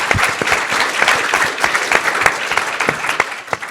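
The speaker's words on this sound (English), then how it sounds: "I just want to give him one more round of applause." Audience applause at a Kentucky forum on recovery, reentry and opportunity: a steady wash of many hands clapping fills the room, dense and continuous with individual claps popping out, no voices over it.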